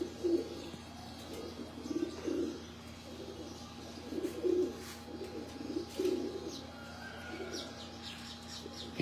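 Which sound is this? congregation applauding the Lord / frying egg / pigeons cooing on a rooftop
pigeons cooing on a rooftop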